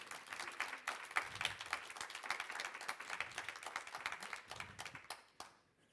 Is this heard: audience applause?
yes